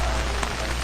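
Steady rain falls on a rainy afternoon at Cades Cove, a dense, even hiss of drops close by with no pauses.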